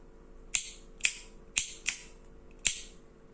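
Antique lighter being operated, five sharp metallic clicks and snaps at irregular intervals, each a crisp close transient with a brief ring, against a quiet background.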